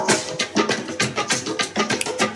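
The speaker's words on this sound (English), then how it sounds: "This is the sound of the war drum." Steady, loud drum beats hit in a quick, even rhythm, each strike booming and ringing into the next, with no voices.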